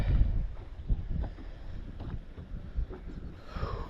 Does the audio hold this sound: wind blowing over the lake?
yes